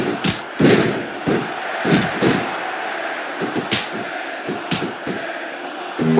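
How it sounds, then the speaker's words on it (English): Crowd cheering and roaring in an arena during a WWE SmackDown vs Raw 2006 video game wrestling match, a steady murmur with loud bursts and thuds from the ring action. "I think these superstars are getting some feedback from the crowd, JR."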